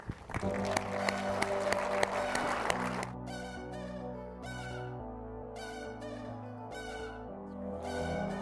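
A conference audience claps to welcome a speaker to the stage at a fintech and payments event, with dense applause for about three seconds that then stops, leaving music with no further clapping.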